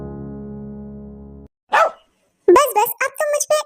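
A dog gives one short, sharp bark after a steady tone fades out, and a person then talks close by.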